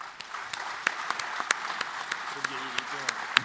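Scattered, sparse claps from a small audience at a political debate among PCF, FSU and CGT speakers, a thin patter of isolated hand claps with a voice briefly heard partway through.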